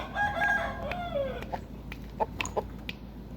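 A rooster crows near the start, its long wavering call followed by a few short, separate clucks and calls from the fowl, fairly clear over a low steady background hum.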